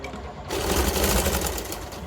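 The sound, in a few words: sewing machine stitching a blouse strip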